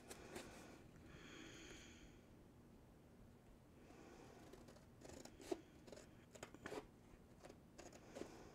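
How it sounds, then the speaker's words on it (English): Serrated scissors snip through paper for Christmas pouch decorating, a few faint, quiet cuts close by in an otherwise hushed room. "So then you can just use them like normal scissors."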